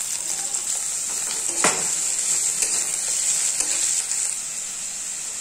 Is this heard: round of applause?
no